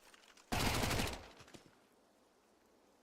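Mac 10 SMG fire in Counter-Strike: one loud, rapid burst of automatic gunfire lasting about half a second, then a few scattered fainter shots before the sound drops away.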